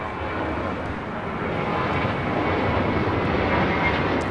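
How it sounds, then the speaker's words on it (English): Aeromexico Boeing 787-8 Dreamliner landing at LAX with reverse thrust, a dense, rumbling engine roar that swells slightly and holds loud and close. "646 coming in from Mexico City on the 787-8 Dreamliner. Yes, a little reverse action here at LAX."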